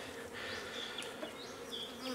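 Lively honey bees buzz steadily around a hive at a farm apiary in inclement weather, a dense continuous drone with individual bees whining past close by, no talk.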